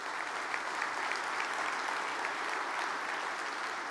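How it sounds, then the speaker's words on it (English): Steady, dense applause from a large conference audience fills the whole stretch, even and sustained without pauses. "a round of applause for them"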